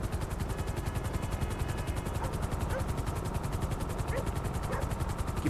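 A GTA V helicopter arrives with a steady, rapid rotor chop that pulses evenly throughout, loud and close, while someone talks over it.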